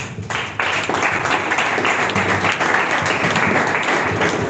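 Sustained audience applause at a young pharmacists' zonal summit, a dense, steady wash of many hands clapping that swells sharply just after the start and holds loud and even throughout.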